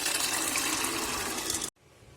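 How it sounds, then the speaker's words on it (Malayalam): Cooked chickpea water poured into a Kerala-style chickpea curry masala, a steady close splashing gush lasting under two seconds before it cuts off abruptly. "കടല വേവിച്ച വെള്ളം തന്നെ നമുക്ക് ഒഴിച്ചു കൊടുക്കാം"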